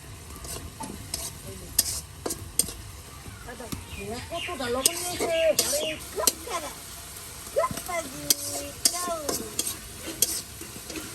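Spiced dried fish (shidol shutki) being stir-fried in a pan in a village kitchen, with repeated scraping stirs over a constant sizzle, while voices talk nearby and birds call faintly in the background.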